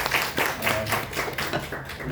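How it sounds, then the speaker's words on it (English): An audience at Gleneagles Hospital applauds Dr. Nilesh Satbhai, a steady, moderately quiet patter of many hands clapping at once that keeps going for about two seconds. "a big round of applause to him as well"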